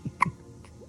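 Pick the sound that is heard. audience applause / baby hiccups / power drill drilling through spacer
baby hiccups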